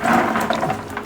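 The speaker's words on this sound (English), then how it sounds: "I'm just going to give it a rinse." Water sloshing and splashing as Eheim canister filter pads and Chemi Pure Blue are rinsed by hand in a bucket of aquarium tank water, a steady close, continuous wash of liquid with no talking.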